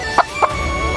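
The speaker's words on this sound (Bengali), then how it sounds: "কত রকম মুরগি" Chickens of several breeds in an enclosure at Gokarna park give two short, sharp clucks in quick succession, close by over a steady background hum.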